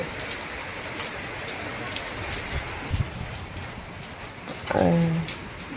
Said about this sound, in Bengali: এই যে দেখো কত বৃষ্টি হচ্ছে, রাস্তায় জল,